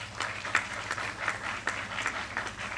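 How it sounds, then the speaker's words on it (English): Audience applause at a university Women's Day celebration, a steady wash of many hands clapping with a few sharper bursts, moderately loud and continuous, with no voices on top. "We clap for them also, please."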